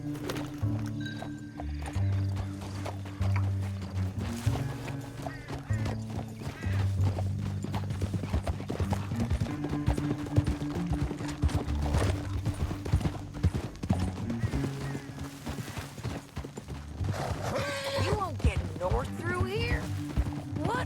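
In the video game Red Dead Redemption 2, steady clip-clop of horse hooves trotting throughout, with a short whinny near the end, over continuous background music and some talking.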